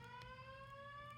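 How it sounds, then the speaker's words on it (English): A hospital fire alarm sounds continuously, a steady harmonic electronic tone with faint periodic pulses, heard from a distance in a quiet room with no talking. "fire alarm in the hospital."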